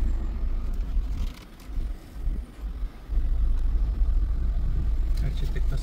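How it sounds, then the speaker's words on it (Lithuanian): Car engine rumbling from inside as it drives slowly and pulls into a parking spot on a mountain road at Sa Calobra, Mallorca, a steady low drone that dips briefly mid-way before settling back, with wind buffeting the microphone. "Važiavam, statomės mašiną ir eisim va čia."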